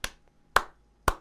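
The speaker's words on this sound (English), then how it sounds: "I'm clapping for you right there." Three sharp hand claps, evenly spaced about half a second apart, close and crisp against near silence.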